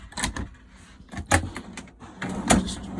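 Kitchen drawers in a 2018 Bailey Unicorn Pamplona caravan slide open and shut, giving three short knocking clunks spaced about a second apart, close by and fairly quiet, with no talking.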